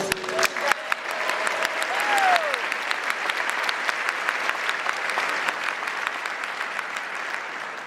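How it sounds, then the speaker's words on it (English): An audience at a law swearing-in ceremony applauds and cheers, steady crowded clapping with a brief whistle early on, tapering slightly toward the end. "You're cheering them on now, having accomplished their goals."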